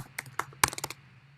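Quick, light clicking of keys on a computer keyboard during a programming session, an irregular run of close taps with a slightly harder stroke near the middle, over a faint steady hum.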